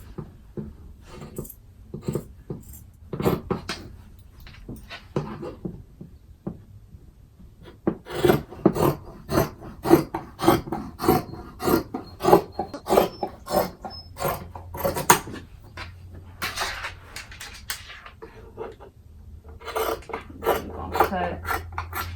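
Fabric for a pair of sweatpants being cut close by, a run of crisp, rhythmic snips and rasps that pause and resume in bursts.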